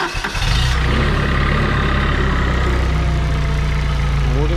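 A Crown C5 engine, freshly topped up with coolant and with its radiator cap left off, cranks briefly, catches and settles straight into a loud, steady, close-up idle.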